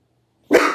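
A single loud, close dog bark bursts out after a moment of near silence and is cut off abruptly.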